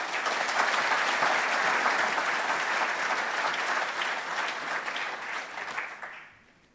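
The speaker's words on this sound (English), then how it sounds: "Ladies and gentlemen, a warm round of applause," An audience at an evening keynote on homelessness in Auckland breaks into sustained applause, a steady wash of clapping lasting several seconds before tapering off into quiet.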